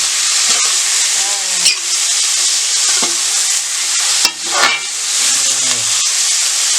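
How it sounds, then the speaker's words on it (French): Tomato sizzles and hisses as it cooks in a pan for a Réunion-style carry rougail, with steady frying noise broken by a few scraping stirs and clinks of the utensil. "Là, je laisse le tomate cuire."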